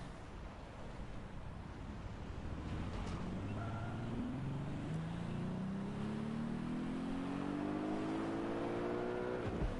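A car in the video game Watch Dogs: Legion revs up, its engine tone climbing steadily in pitch over a dense, constant roar, loud and close throughout.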